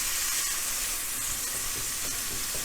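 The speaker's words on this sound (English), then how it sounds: "Just kind of deglaze the pan, and I'll put this on top of the steak once the wine cooks out." White wine sizzles and hisses steadily in a hot pan as it deglazes it after a ribeye steak has been cooked, a continuous close bubbling fry with no voices.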